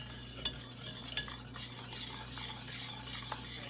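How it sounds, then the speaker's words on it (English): A whisk stirs a garlic-powder sauce in the bottom of a crock pot, giving a soft continuous swishing with a few light clinks of metal against the pot, close by and fairly quiet, with no talking. "I've got a whisk here. I'm going to whisk this up real quick."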